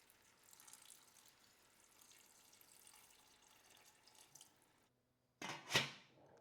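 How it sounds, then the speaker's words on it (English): Water poured into a pot of gilthead bream and vegetables, a soft steady trickling stream for several seconds, then a brief pause and a louder splashing burst near the end. "I'm going to add a little water."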